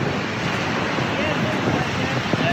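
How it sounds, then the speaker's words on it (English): A large waterfall drops through a canyon near Ouray, Colorado, giving a steady, broad roar of rushing water heard from above with some wind buffeting, the noise continuous throughout. "In the middle of a giant canyon, a whole shit ton of water dropping through it"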